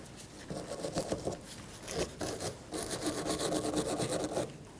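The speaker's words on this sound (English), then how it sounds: "take a wire brush to that, clean that up, because you want the knurls to be really fresh" Wire brush scrubbing the knurled shaft of a rear wiper arm on a 1999-2004 Jeep Grand Cherokee, a close, gritty back-and-forth scraping in repeated strokes with short pauses, no talking.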